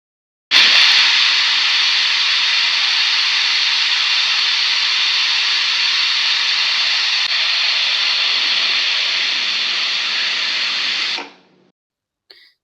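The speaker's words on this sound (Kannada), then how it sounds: "ಕುಕ್ಕರ್ ಮುಚ್ಚಳ ಮುಚ್ಚಿ ಎರಡು ವಿಷಲ್ ಬರುವವರೆಗೂ ಮೀಡಿಯಂ ಫ್ಲೇಮಿನಲ್ಲಿ ಬೇಯಿಸಿಟ್ಟುಕೊಳ್ಳಿ" A pressure cooker on a medium flame, cooking horsegram pulao, lets out one loud, steady jet of hissing steam that holds for about ten seconds and then cuts off abruptly, with no voices over it.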